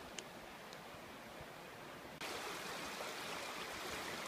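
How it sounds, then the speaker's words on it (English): A flooded river rushing steadily in a winter wilderness, a broad continuous roar of moving water that swells louder partway through, with no talk. "This river is still quite flooded."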